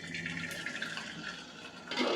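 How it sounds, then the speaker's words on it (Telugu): Starch water drains off a pot of freshly cooked rice in a steady, rushing pour with splashing, fairly faint and continuous, swelling slightly at the end. "ఇప్పుడు అన్నం వారుస్తున్నాను."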